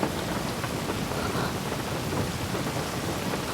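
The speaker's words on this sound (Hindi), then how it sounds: "लेकिन बाहर बारिश हो रही है।" Steady rain falling outdoors in a dense, even hiss with a faint low rumble beneath, continuous throughout and without voices.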